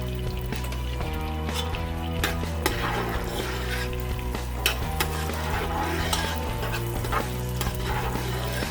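Onions sizzling steadily as they fry in hot oil for Nigerian black-eyed peas, with a spoon scraping and clinking against the pot every few moments while they are stirred, and no talking.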